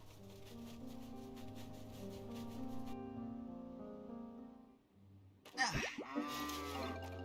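Cows moo in the farming game Story of Seasons: Grand Bazaar, a low drawn-out moo rising near the end after a stretch of soft game music, fairly quiet and with no talking.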